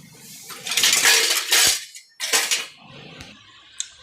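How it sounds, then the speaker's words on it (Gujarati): A metal cooking pot (tapeli) handled at home, bright metallic clanks and scraping rattles in a few bursts, close and loud, with a sharp small clink near the end. "તપેલી લઈ લીધી છે, જોઈ લો"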